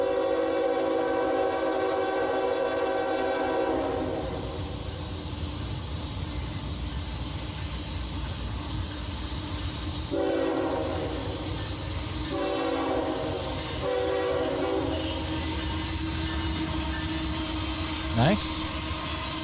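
An old BNSF GP diesel locomotive rolls past with a loud, sustained horn blast, then rumbling wheels and clattering cars, then a second horn burst followed by a brief squeal near the end.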